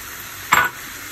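Sardines drop into a hot pan with one short, sharp burst of sizzling and stirring that rises suddenly and fades within a fraction of a second, against a quiet background.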